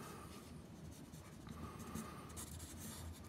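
Soft, continuous scratching and rubbing of a stylus sketching across an iPad screen, quiet and close, with irregular short strokes and no talking.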